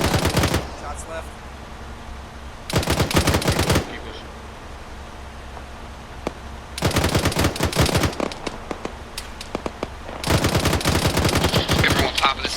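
Bursts of automatic gunfire during company-wide military training ring out in three long stretches and one short stretch of rapid shots, loud and close, with lower background noise between the bursts.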